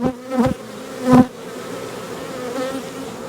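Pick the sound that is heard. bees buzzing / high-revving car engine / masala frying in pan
bees buzzing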